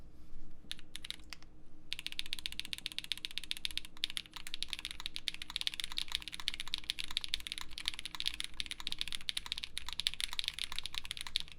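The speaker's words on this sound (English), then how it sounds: "Let's give this a go typing wise though." Continuous rapid typing on a Swift65 mechanical keyboard fitted with CRP keycaps, a dense stream of close, crisp key clacks with no talking.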